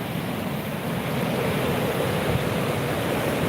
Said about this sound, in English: I'm just showing you guys the floodwaters that's going on right now.